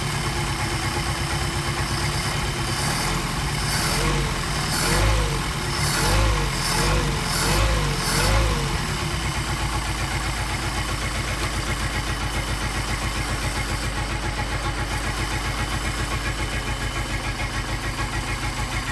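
Engine fitted with Solex carburetors with the linkage disconnected for individual tuning, running close and loud as its speed rises and falls in a wavering rhythm for the first half, then settling into a steady, even idle.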